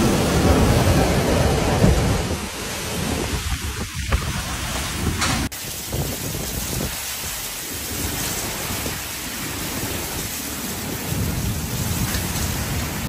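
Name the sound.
thunderstorm with heavy rain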